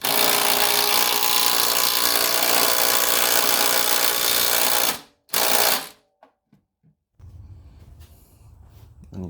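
A power tool drives a 17 mm bolt through the track of a Toyonda engine mount kit, whirring loudly and continuously for about five seconds, then stopping in short bursts, with faint clatter of tools afterward.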